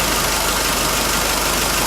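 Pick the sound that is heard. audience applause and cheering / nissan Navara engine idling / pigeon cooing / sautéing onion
nissan Navara engine idling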